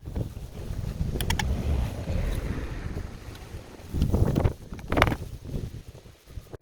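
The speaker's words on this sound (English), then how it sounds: "it's a little bit windy" Gusty outdoor wind buffets the microphone during work on a Ford Focus ST, rumbling unevenly with a few sharper gusts and no speech.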